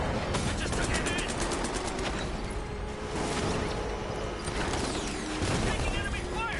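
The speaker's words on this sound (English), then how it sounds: "Taking enemy fire!" Enemy gunfire in a Batman Arkham game: sustained rapid bursts of automatic weapon fire, loud and dense, rattling continuously throughout with brief clatters of mechanisms.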